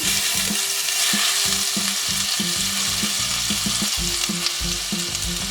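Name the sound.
mixing spices frying in a pan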